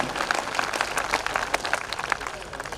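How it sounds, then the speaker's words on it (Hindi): An audience in a hall at a Hindi comedy poetry show claps together, a dense steady patter of many hands with a few sharper claps standing out from the room's wash of sound. "पूरे सदन की एक बार तालियां फिर उठ जाएं"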